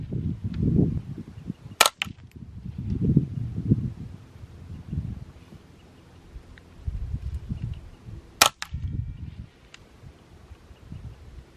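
Two sharp rifle shots from a Bergara BXR, a factory 10/22-style rimfire rifle, fired outdoors several seconds apart, with wind and rustling in between and no talking.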